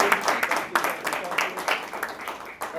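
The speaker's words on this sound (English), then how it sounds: "Let's give Jared a huge round of applause." A small group claps for Jared at the close of a meeting discussion, scattered applause that runs under a speaking voice.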